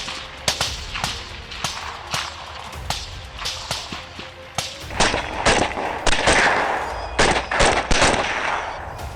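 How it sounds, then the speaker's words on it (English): Rapid gunshots from hunters on an African baboon hunt crack out at night in irregular bursts, some overlapping into volleys, loud and sharp against a dark outdoor background. "Gunshots ring out in the night"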